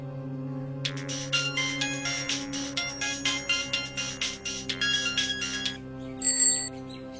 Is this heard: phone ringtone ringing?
yes